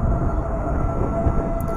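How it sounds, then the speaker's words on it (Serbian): Train pulling into a German railway station, a steady low rumble of wheels and rolling stock with a faint high tone above, close and continuous, with no voices. "Voz je stigao tačno na vreme."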